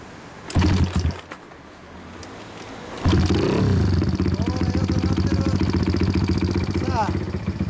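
A Honda Shadow 400 motorcycle with a Yoshimura exhaust fires up close by: an early brief rev, then a steady, loud, throbbing idle with a deep pulsing rumble, with people talking nearby.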